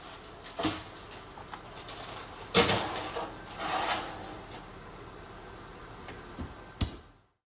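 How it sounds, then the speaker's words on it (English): Foil-covered aluminum tray holding a marinated mutton leg being slid into an oven, with a few distinct thuds and metallic knocks, the door clunking open and shut, close and fairly quiet otherwise. "Cover it with aluminum foil and place it in the oven."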